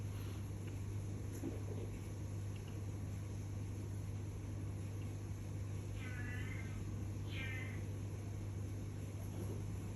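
A pet cat gives two short, faint meows a little apart in a room, under a steady loud electrical hum and background hiss, with no talking.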